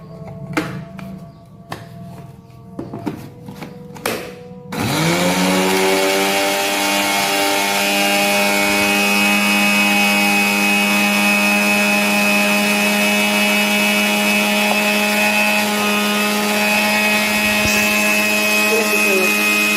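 After a few seconds of clattering and knocks, a blender motor roars to life and grinds cloves into powder steadily at high speed without pause.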